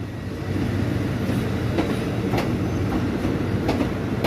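A train rumbles steadily past at Bang Sue station in Bangkok, loud and close, with rhythmic clicking of wheels over rail joints and faint metallic squeals.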